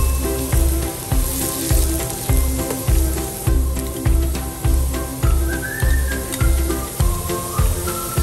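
Ginger sizzles in a pan as the sauté begins for Ilokano-style mung bean stew, a loud, steady frying hiss with a regular pulsing rhythm of stirring or pan movement, a faint whistle-like tone drifting above it.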